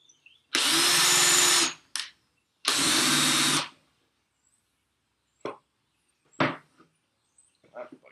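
A power drill boring into wood in a home woodworking setting, with two steady whirring bursts of about a second each, followed by a few faint clicks and knocks.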